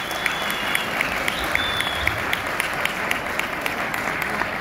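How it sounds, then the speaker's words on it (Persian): An audience at a celebration in Hamburg, Germany, honouring an Afghan boxing champion claps steadily for several seconds, a dense, even patter of applause from a crowd indoors. "تشویق کنید لطفا."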